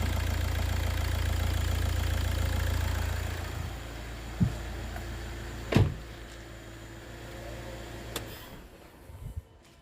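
A car engine idles steadily during a routine oil service, a low continuous rumble that fades out midway as it is shut off, followed by a few faint clicks and knocks.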